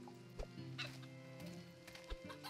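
A chicken in the video game Travellers Rest clucks in short, quiet bursts over a soft tonal game music background.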